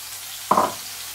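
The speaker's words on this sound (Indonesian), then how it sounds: "minyaknya udah panas ini bumbunya saya masukin" Seasoning paste dropped into hot oil for stir-fried water spinach (tumis kangkung) bursts into a loud sizzle, a sharp onset that quickly settles into a softer crackle after a quiet moment.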